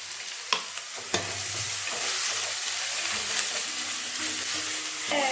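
Ginger garlic paste frying and sizzling in a hot pan while being stirred for paneer butter masala, a steady close hiss with a few sharp clinks of the spoon against the pan early on.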